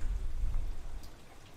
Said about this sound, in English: just a kind of a video clip of the rainy day